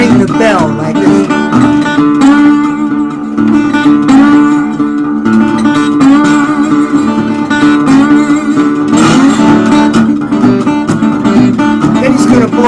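A National Steel resonator guitar rings out a dense, loud, sustained chiming pattern that imitates a freight train's bell, steady and continuous throughout.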